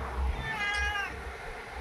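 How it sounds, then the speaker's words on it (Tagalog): A single cat lets out a clear, drawn-out meow close by against a low background rumble, with no one talking. "Look at that cat!"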